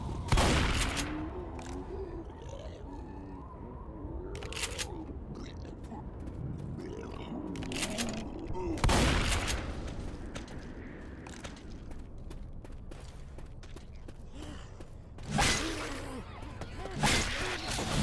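Left 4 Dead 2 gunfire rattles out in several sharp, loud bursts spread across a tense game scene, with a player's voice talking faintly between the shots.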